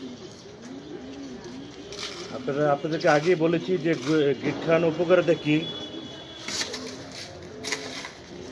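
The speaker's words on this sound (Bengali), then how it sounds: "400 পিস কবুতর এখানে।" Pigeons in a loft housing about four hundred birds coo in low, repeated rolling calls close by, overlapping one another in the middle of the stretch while someone talks over them.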